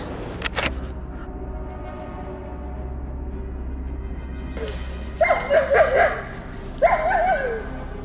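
Hunting dogs barking out in the fields, a few yips in two short bursts after a quiet stretch, moderately close with faint background noise.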